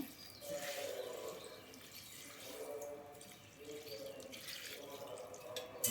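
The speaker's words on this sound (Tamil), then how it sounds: "இது மூழ்கிற அளவுக்கு தண்ணி ஊற்றிடுங்க" Water pours steadily into a pot of ragi semiya seasoned with salt, a continuous splashing and gurgling stream that swells and eases for several seconds with no talking.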